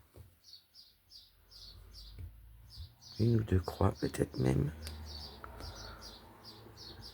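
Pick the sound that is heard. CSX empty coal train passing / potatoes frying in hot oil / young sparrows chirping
young sparrows chirping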